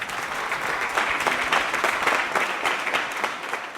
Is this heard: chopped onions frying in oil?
no